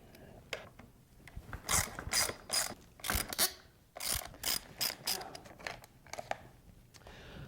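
Allen wrench ratcheting and clicking while motocross hand guards are removed, with quick bursts of metallic clicks in uneven runs, close and fairly quiet, no talk.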